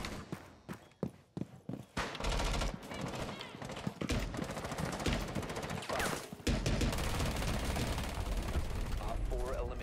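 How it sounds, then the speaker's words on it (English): In a tactical shooter match, a rifle fires through a wall at an opponent: a quick run of sharp separate shots, then a long loud burst of sustained automatic fire that fills the rest of the moment, with a voice talking underneath. "I'm just gonna wallbang him"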